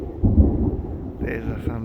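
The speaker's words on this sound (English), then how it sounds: "There's the thunder." Loud thunder from a storm rumbles close by in a short burst, a deep booming crack that swells, fades briefly, then rolls on again, with no talking.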